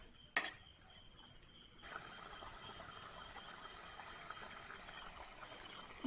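Tamarind water pours into a simmering pan of Kerala coconut fish curry masala: a sharp clink, then a soft, steady gushing and sizzle that runs on quietly at low volume.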